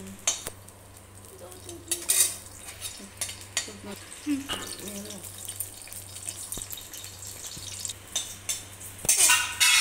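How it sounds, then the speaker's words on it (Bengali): Dried red chillies sizzle in hot oil in a wok during cooking of a potol posto dish, a soft steady frying hiss with occasional scrapes and clinks of a utensil against the pan. "তেল দেওয়ার পর তেলটা একটু আসলে তারপর 3টে শুকনো লঙ্কা দিলাম।"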